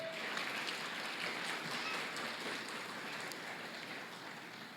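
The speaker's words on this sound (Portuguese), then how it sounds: "dá uma salva de palmas e aplaude para valer" A church festival audience applauds in response to a preacher's call, producing a continuous wash of many hands clapping at even loudness that tapers slightly toward the end, with no speech on top.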